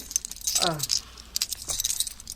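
A bunch of keys jangling close by, a brief metallic rattle with bright chiming clinks scattered through, heard alongside a voice and other light movement sounds.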